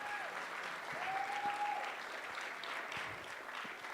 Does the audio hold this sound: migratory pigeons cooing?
no